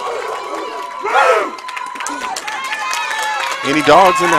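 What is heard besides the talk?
crowd cheering at a bowling championship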